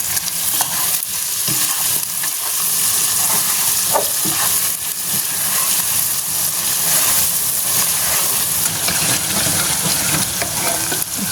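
Continuous loud sizzling and hissing of gongura and mushroom pickle frying in a pan, with scattered scraping stirs and clicks over the crackle.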